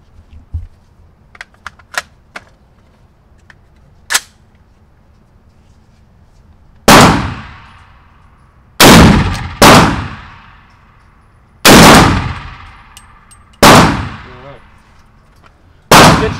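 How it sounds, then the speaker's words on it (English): Six loud gunshots from a 300 Blackout AR pistol firing Winchester 147 grain rounds, spaced a second or two apart with sharp ringing decays, preceded by faint clicks and handling noises. "we're gonna start off with firing some of these Winchester 300 black 147 grains"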